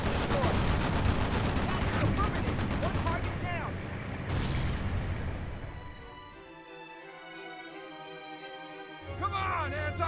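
Rapid gunfire and explosions from a Bradley fighting vehicle shooting armor-piercing rounds in the World in Conflict war game, a dense, loud barrage that thins out near the end, with voices talking over the battle.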